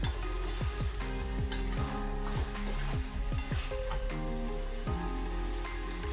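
Chicken and spices being stirred and fried in a pan, a steady broadband sizzle with scraping stirs, under continuous melodic background music.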